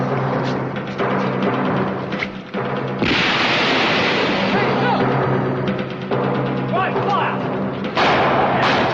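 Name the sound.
grenade explosion in Doctor Who audio drama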